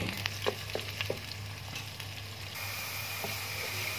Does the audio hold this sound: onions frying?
yes